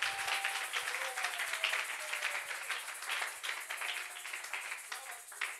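A church congregation applauds the Lord during a Thursday sermon at a tabernacle, a steady wash of many hands clapping at once, sustained and fairly even throughout with no talk over it.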